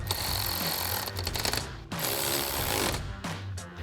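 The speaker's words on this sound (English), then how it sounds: "And then once again, 13mm socket to tighten these down." A ratchet with a 13mm socket tightens roof rack bolts on a Toyota 4Runner, producing rapid clicking bursts with a brief pause between strokes, close and fairly loud.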